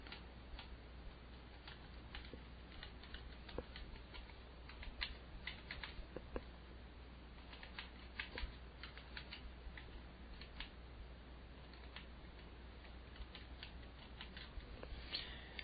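Rapid, light keystrokes patter on a computer keyboard as special characters are entered into a login input field, a steady irregular clicking that runs continuously and fairly quietly with no talk.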